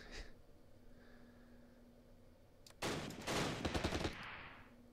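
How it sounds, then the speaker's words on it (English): Bursts of small-arms fire in the wartime strategy game Close Combat Last Stand Arnhem, a loud clattering volley of several rapid shots after a quiet stretch, with no talk. "Oh, the firing!"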